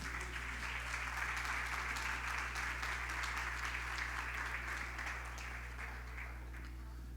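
A church congregation claps in sustained applause during a sermon, a dense even patter that fades slightly toward the end over a constant low electrical hum.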